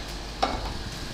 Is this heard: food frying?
yes